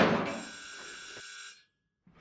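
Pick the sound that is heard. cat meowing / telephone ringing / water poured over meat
telephone ringing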